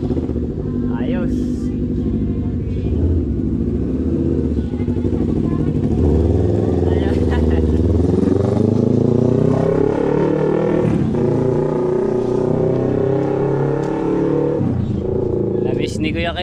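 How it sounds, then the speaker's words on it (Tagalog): Motorcycle engine warming up and circling through a residential subdivision, a continuous buzzing drone that rises and falls with throttle, fairly close, with people talking over it throughout. "pinapainit niya yung makina at paikot-ikot dito sa loob ng kanilang subdivision"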